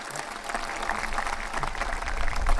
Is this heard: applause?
yes